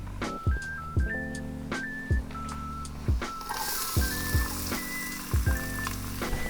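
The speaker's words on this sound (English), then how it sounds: "Now we're sauteing" Butternut squash and shallots sautéing for risotto, a soft sizzle broken by regular sharp clacks of a utensil against the pan, with a steady tonal hum underneath.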